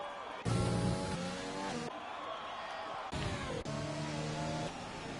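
Formula-style racing cars in an Austria round of a sim racing game, engines revving through gear changes in loud sustained tones, with a commentator talking over them.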